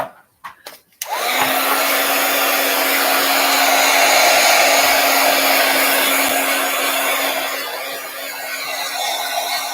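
A hair dryer blowing steadily on a craft project, switching on after a few brief knocks and then running loud and continuous with a constant whine, close by and alone.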